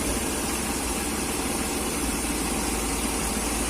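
A BMW E39 engine idles steadily during a flush of its rusty radiator, a constant, even rumble and hum with no talk over it.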